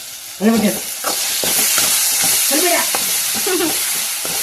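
Ginger paste frying in a pan for chicken curry gives a loud, steady sizzle, with a few scraping stirs and brief clatters close by.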